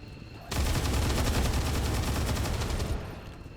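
Automatic weapon fire in the video game XCOM 2 Long War 2, a loud sustained burst of rapid shots lasting about two and a half seconds, then tapering off.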